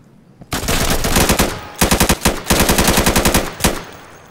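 Loud close automatic gunfire in the combat video game WarGames: Insurgency, rapid bursts of shots separated by brief pauses, with no other sound.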